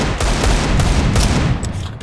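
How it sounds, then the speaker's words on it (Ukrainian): Rapid, loud gunfire bursts from Counter-Strike 2, a dense fusillade of shots filling the whole stretch with sharp repeated cracks close by. "Ну куди ви там стріляєте?"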